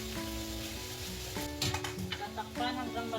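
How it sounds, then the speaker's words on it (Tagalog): Tomatoes sizzling and frying in a pan for a lentil curry (daal bhuna), with steady sizzle and occasional stirring and scraping sounds close by; no talking. "ilalagay natin ang kamatis. Lulutuin lang natin ang ating kamatis."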